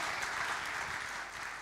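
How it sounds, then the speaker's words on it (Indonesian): Congregation applause in a church during a sermon, a steady dense wash of clapping with no gaps across the short stretch, moderately loud and even. "Tepuk tangan buat Tuhan Yesus."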